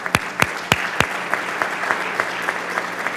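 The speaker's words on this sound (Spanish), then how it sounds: "Un aplauso para ella," Applause from an audience at a presentation of a new development in Samborondón, with sharp claps at first thinning into scattered, softer clapping over a few seconds.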